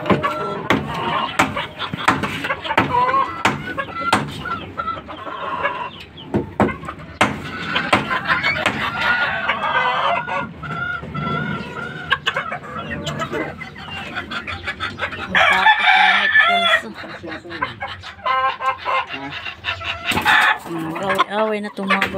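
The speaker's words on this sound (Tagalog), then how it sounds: "Natakot na yung manok." Frightened chickens cluck and squawk loudly inside a coop, agitated overlapping calls with occasional crowing-like cries continuing throughout, and a person talks at times.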